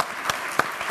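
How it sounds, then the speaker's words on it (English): An audience at a talk on behavioural experiments with online platforms gives sparse applause, with three separate, distinct claps standing out over a soft background hiss. "Can we applaud?"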